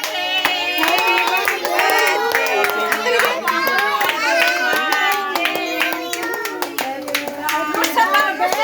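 Hands clapping along at a family birthday celebration, a rhythmic round of claps under lively singing and children's voices, loud and close throughout.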